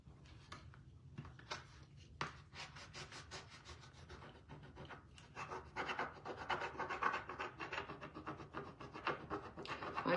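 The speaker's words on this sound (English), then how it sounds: "I'm using a Cricut embossing tool that I got from Amazon" A Cricut embossing tool rubbing over a stencil, a quiet, close, scratchy rasp of irregular strokes that grows busier and denser in the second half, with no talking.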